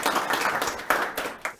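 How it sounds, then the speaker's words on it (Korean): At a Korean labor-rights forum on apartment security guards, an audience gives a short round of applause, a brief cluster of claps that fades quickly, fairly close but modest in volume. "박수 부탁드립니다."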